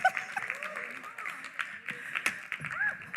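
Children cheering and clapping for a jump-rope performer named Tay, scattered claps and excited shouts with voices mixed in throughout.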